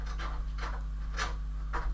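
A pet scratches at a door, giving four or five short rasping strokes at an uneven pace, fairly faint over a steady low hum.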